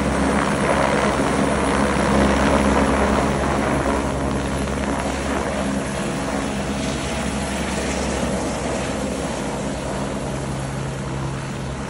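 A helicopter flying near Govindghat in the Himalayan valley below the Valley of Flowers trek, its steady, loud rotor throb and turbine whine filling the air without a break.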